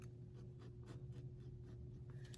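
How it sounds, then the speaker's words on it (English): A pencil drawing a short line on paper against a ruler during a fashion draping sketch, heard as soft, repeated scratchy strokes under a steady low hum, close and quiet with no talking. "square up a 1/4 inch on your ruler and then just draw a line like so"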